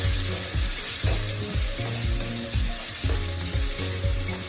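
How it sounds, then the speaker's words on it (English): Potato sabzi with asafoetida and turmeric sizzling steadily in a hot pan, with repeated scraping stir strokes roughly every second over a continuous frying hiss. "and let's saute it a little bit"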